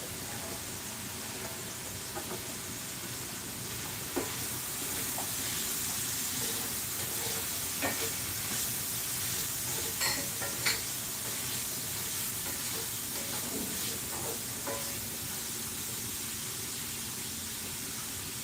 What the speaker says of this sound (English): And you're just going to keep stirring this. As it cooks, it will thicken.